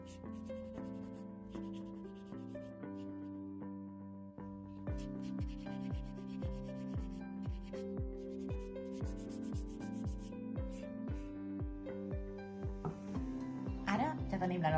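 A small wooden piece sanded by hand with sandpaper, rhythmic back-and-forth rubbing strokes, about a dozen evenly spaced passes, close and clear under a continuous background of music.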